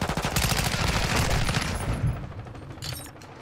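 Automatic gunfire in Call of Duty: Modern Warfare, from a player's rifle on the small Shipment map: a loud, close, rapid burst that fades into a few scattered shots and some echo.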